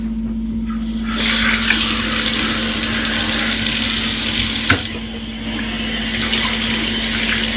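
Water from a tap gushes steadily over a K&N reusable cabin air filter, a loud, continuous rinsing rush with a low mechanical hum underneath and a brief dip midway as the flow is shifted.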